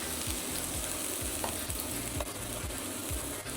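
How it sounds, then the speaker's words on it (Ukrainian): Chopped onion fries in a heated pan, a steady close sizzle with scraping stirring sounds and no talking. "Сковорідочка наша нагрілась, додаємо цибульку. Зараз вона трішечки підсмажиться."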